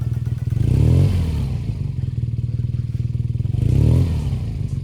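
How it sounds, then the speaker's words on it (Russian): A motorcycle engine with a burning clutch runs close by in a steady pulsing idle, swelling into two short revs about three seconds apart as the throttle opens and the clutch is worked. "То есть открываем газ и потом работаем сцеплением."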